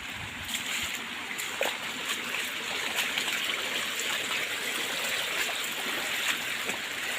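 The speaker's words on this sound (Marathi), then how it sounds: "आणि ही व्हाळी व्हाळीत ना पाणी येत आहे बघा तिकडेच" Floodwater runs steadily down a swollen village stream channel, a continuous broadband rush with faint splashing, heard alone at a moderate distance.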